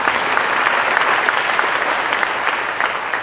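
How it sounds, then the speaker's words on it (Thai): Audience clapping at a live stage finance show, a dense, loud, steady applause from a large crowd heard close and alone for a few seconds. "ขอเสียงปรบมือให้นายกของเร"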